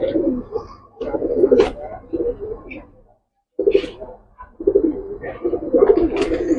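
Pigeons coo repeatedly at close range, soft throaty calls in several bursts, with a brief quiet pause midway.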